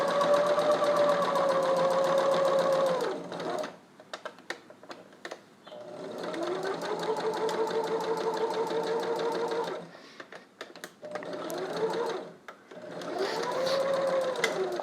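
Sewing machine stitching a seam on a Spider-Man test mask, running in three long close bursts separated by quiet gaps filled with light clicks and handling noises.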